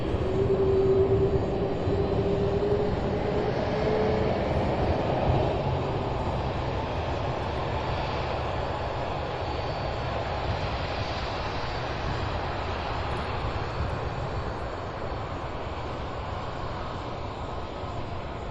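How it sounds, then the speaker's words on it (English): Several aircraft engines roar as planes begin their takeoff at Louisville's SDF airport, a broad, steady rumble heard from a distance that holds a constant level with only a slight fade near the end. "lots of loud engines as they will begin. The process now of taking off."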